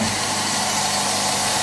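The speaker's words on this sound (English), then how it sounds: "So I'm going to turn the belt sander on." A belt sander runs continuously with a loud, steady whirring hiss and low motor hum, close by and unbroken.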